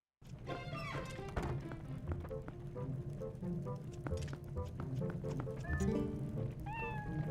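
A cat meows several times in the video game Twilight Princess HD, heard over busy game music and clattering effects, moderately loud throughout.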